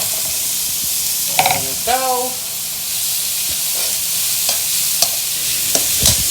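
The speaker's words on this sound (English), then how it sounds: "Once the garlic starts frying up, you can add the onions in next." Garlic and onions sizzle and fry steadily in butter in a hot pan, with a brief spoken remark partway through and occasional stirring clinks.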